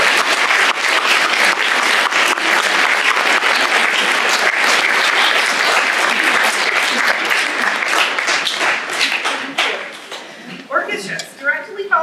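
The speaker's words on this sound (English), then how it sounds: "Can we please offer her our thanks with a round of applause?" Audience applause at a youth string orchestra festival concert, a sustained loud wash of many clapping hands that thins toward the end as scattered voices come up.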